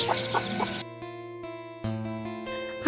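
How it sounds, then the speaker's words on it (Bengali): Backyard chickens kept at a family home cluck in short bursts near the start, while steady tonal background sound runs underneath. "আমার আম্মা মুরগি পালে"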